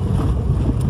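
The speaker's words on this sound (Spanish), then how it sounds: "Ándese paseando en lancha, dijo el conejo." A motorboat runs across Bahía Falsa at San Quintín, a steady low engine drone mixed with wind buffeting and water noise, with no voices.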